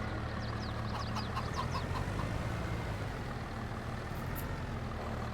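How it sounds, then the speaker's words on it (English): Chickens in the Farming Simulator 22 game cluck in soft repeated bursts over a steady low tractor engine drone, the clucking faint and fading out partway through. "We should feed the chicken."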